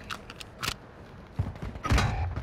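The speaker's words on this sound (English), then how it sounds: "I just got sniped." Sniper rifle shot in the Call of Duty Warzone video game on Ashika Island, a sharp burst landing close, with scattered clicks and thumps of game mechanisms before it and a heavier crack and rumble afterward.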